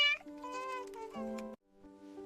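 A cartoon cat in an animated cooking scene meows twice, clear and tonal, the second call shorter, with no talk over it.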